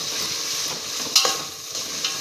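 Marinated paneer fries with softened tomatoes in a pan, giving a constant close sizzle with a brief louder burst of spitting partway through.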